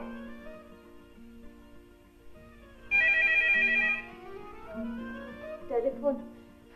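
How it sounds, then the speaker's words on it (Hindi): A telephone gives one short, bright electronic ring lasting about a second, fairly loud over quieter tonal background sound, with voices nearby. "टेलीफोन मैं सुन लूं"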